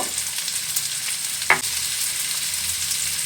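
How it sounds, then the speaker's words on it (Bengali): Boiled potatoes fry in a pan with onion, green and red chili, salt and turmeric, giving a steady close sizzle with a single sharp scrape of stirring partway through. "আলু যেহেতু সেদ্ধ আছে তাই একটু ফ্রাই করে নিচ্ছি"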